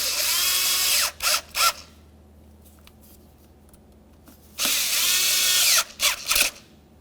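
Cordless power tool snugging the MAP sensor mounting bolts on a 1994-1997 Honda Accord: two loud whirring bursts, each followed by short clicking pulses, with a quiet pause between them.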